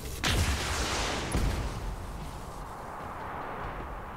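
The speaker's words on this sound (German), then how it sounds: "Das war ein guter Schuss mit der Rakete." Rocket shots at a Panther mech in the BattleTech mech strategy game land as two heavy booming blasts followed by a long rumbling roar of battle noise.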